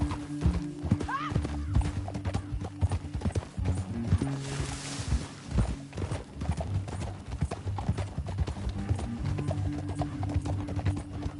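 Rapid hoofbeats of a galloping horse in the video game Red Dead Redemption 2, steady and close, with a whinny and game sounds mixed in throughout.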